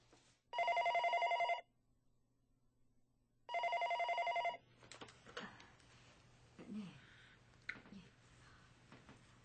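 Two long electronic telephone rings with a pause between, followed by quiet indoor rustling and faint background voices.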